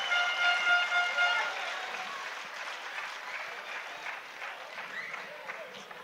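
A futsal crowd at a Champions League qualifier in Varna applauds and cheers loudly at first, then the noise gradually fades to a lower, steady clapping roar.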